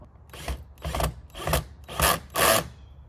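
A weak power drill grinds into a Camry's front bumper while a splitter is fitted, five rough bursts about half a second apart, each louder than the last, with quiet gaps between.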